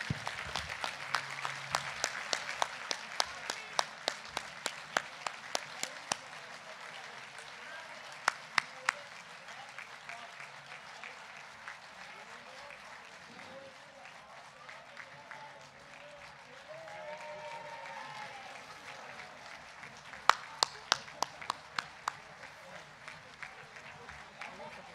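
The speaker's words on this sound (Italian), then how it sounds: "un applauso forte ai nostri allievi" Audience applause for the students at a regional union congress, a steady spread of clapping lasting throughout with sharper isolated claps standing out near the start and again later, moderately distant and with some talk mixed in.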